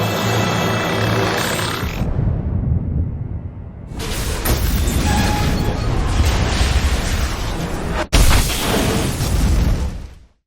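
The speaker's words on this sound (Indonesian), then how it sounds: "rudal yang diluncurkan militer meledak di kota wabah Hyosan" Military missile strikes exploding across a zombie-overrun city in a Korean series, heavy booming blasts with rumbling low roar and debris, loud and sustained, with a sharp cut partway through.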